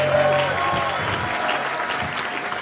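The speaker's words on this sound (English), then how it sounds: "Give him a huge hand clap." Church congregation at a Sunday morning family service applauding, a dense, continuous wash of many hands clapping that fills the space with a few faint whoops and tones over it.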